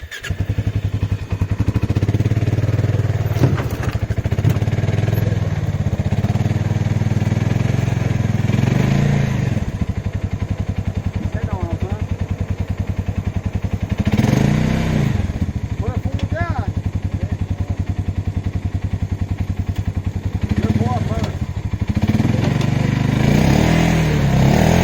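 A Honda 400EX ATV engine running, a continuous close rumbling drone with several revving swells and clattering knocks, with people talking over it throughout.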